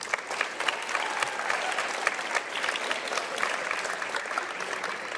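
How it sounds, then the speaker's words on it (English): An audience at a high school orchestra concert applauds, giving a steady, moderately loud round of clapping that carries evenly throughout, with no voices over it. "Let's give them a round of applause for that."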